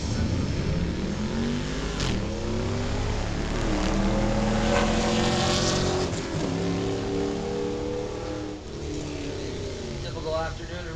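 Drag racing cars do burnouts at a strip on a Friday evening, with loud sustained engine roar and shifting revving tones rising and falling, alongside voices in the background.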